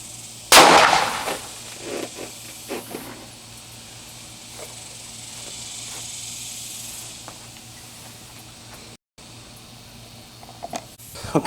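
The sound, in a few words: Extreme Shock 9mm Air Freedom round fired from Kahr PM9 pistol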